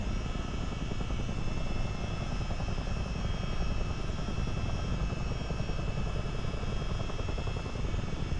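A CH47D Chinook helicopter in a flight simulator game gives off a constant heavy rotor and turbine drone, loud and close, holding a steady level without voices.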